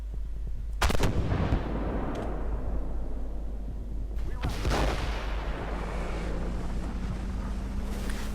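Artillery fire in the tank game Armoured Warfare: two heavy booming shots a few seconds apart, each followed by a rumbling tail, over a constant low engine drone.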